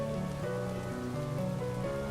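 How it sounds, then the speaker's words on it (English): Rain falls in a steady, even wash of patter with no pauses or talk, and low tonal sounds linger beneath it. "Rain."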